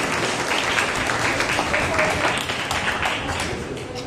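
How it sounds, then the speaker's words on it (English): A group of people at a New Year prayer meeting clapping for a child: dense, loud, continuous applause lasting about four seconds and fading slightly at the end. "Let's clap for Abigail"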